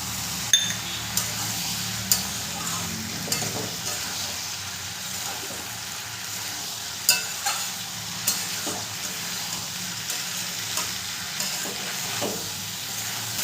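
Jackfruit and potato sautéed with cashew paste and spices in a pan, a continuous sizzle broken by regular metallic taps and scrapes of a spatula every second or so.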